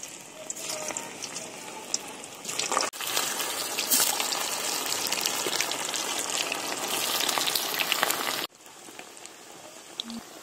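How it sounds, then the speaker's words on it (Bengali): Boiled potatoes frying in oil for chicken biryani, a dense crackling sizzle that jumps louder after a few seconds, holds steady, then drops back down near the end. "সেই আলুগুলো ভেজে নেবো এবারে তেলে দিয়ে"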